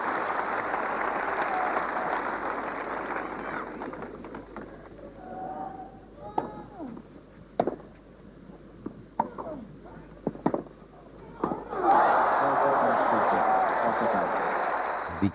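Tennis crowd at Roland Garros 1992 cheering and applauding as McEnroe leaves the court, loud sustained applause at the start, thinning to scattered claps and knocks, then swelling again into a strong ovation near the end.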